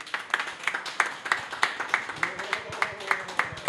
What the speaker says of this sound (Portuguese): Nosso aplauso para você que nos assistiu.